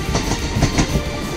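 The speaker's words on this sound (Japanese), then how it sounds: "こうして東海道線へと再び合流していった回送列車" An out-of-service JR Central train rolls slowly along the Tokaido Line rails close by, with a rumbling low roar and rhythmic clickety-clack of wheels over joints.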